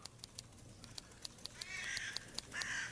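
A tame jackdaw gives a couple of short, harsh calls late in the clip, following a series of light clicking taps, fairly close and moderately loud with no one talking.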